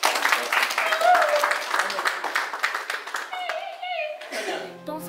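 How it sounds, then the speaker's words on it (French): An audience claps at a Cameroonian solidarity gathering supporting people with disabilities. The clapping is dense and uneven beneath voices and chatter, thinning toward the end as a tonal, song-like sound emerges. "Si nous sommes d'accord, applaudissons pour nous-mêmes"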